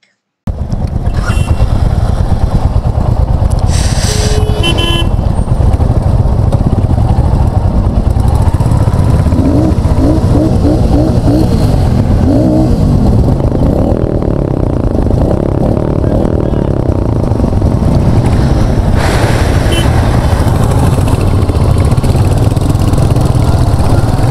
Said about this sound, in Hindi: तो first bike, second bike, third bike, fourth bike और उसके बीच में एक डिफरेंट बाइक